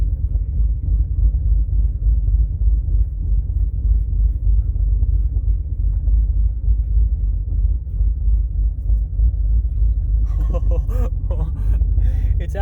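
A twin-turbo Ford F150 pickup with no power steering rumbles steadily and low while being reversed, its engine drone constant and close, with brief higher-pitched sounds near the end.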